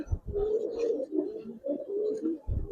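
Giribaz pigeons at a loft in Old Dhaka coo softly and close by, a run of low, rolling coos repeated over a couple of seconds, with a few dull thumps at the start and end.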